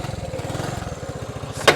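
A 1967 Honda S90 motorcycle engine fires up after a kick start and runs with a rapid, even low putter, close by, ending in a sharp clatter.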